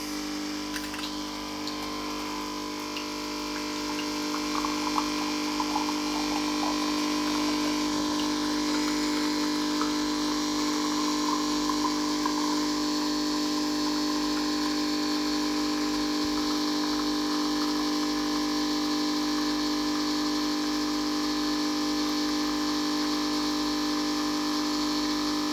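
A Nescafe Dolce Gusto coffee machine brews a cup of hot coffee, its pump giving a steady, even mechanical hum with faint ticking that runs unbroken throughout, close and moderately loud.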